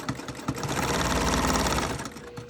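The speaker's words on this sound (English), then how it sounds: "One benefit you have with the treadle machine is there's no motor" A motorless treadle sewing machine running, a steady rhythmic mechanical clatter and whir at close range, continuous throughout with no voices.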